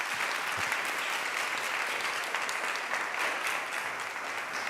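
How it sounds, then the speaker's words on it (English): Sustained applause from an audience at a church panel discussion, steady and dense clapping throughout with no voices standing out. "Let's give everybody a round of applause."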